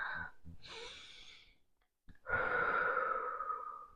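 A person takes a deep breath, a soft airy inhale followed by a pause, then a long, loud, breathy exhale close to the mic.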